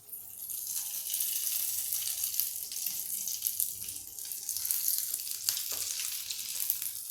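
Green gram kebabs fry in a pan and are flipped with a spoon, giving a steady close sizzle and hiss with a few sharp spoon clicks and scrapes near the end; nobody speaks.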